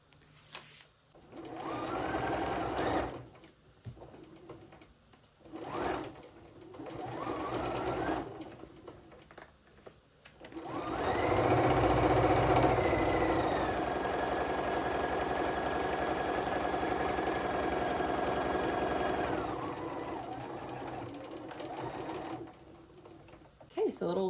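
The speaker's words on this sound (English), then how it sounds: "you're just going to sew on that line" A sewing machine stitching fabric along the line of a paper-pieced quilt block, whirring in short bursts at first and then running steadily for about ten seconds, close and clear, with brief stops between runs.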